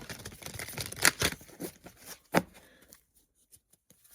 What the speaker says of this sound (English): Let's do 3 sideways shuffles.